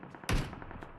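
A single sharp burst of gunfire from behind in the mobile game PUBG Mobile, one loud close crack that trails off quickly.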